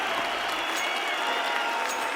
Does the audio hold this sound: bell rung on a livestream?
no